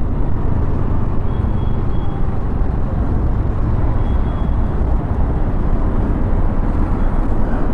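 A 2024 Yamaha Aerox 155 Version S scooter on the move, its engine a loud, continuous low drone blended with road and wind rumble, holding steady without breaks.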